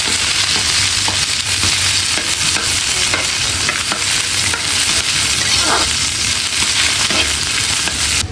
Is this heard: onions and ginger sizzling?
yes